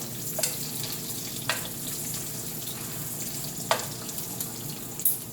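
Bologna slices fry in a skillet with a steady, close sizzle and a few sharp pops or spatula clinks breaking through; no one speaks.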